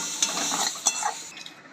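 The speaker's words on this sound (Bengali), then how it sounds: "শাকটা ভাজা হচ্ছে, ভাজা হয়ে গেছে" Greens frying in a pan on a home stove, with a bright sizzle and a few sharp scrapes and taps of a utensil as they are stirred, heard close up.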